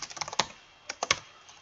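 Quick keystrokes on a computer keyboard while a date is typed into a help desk system, a brisk cluster of close, crisp taps, a short pause, then a few more sharp clicks.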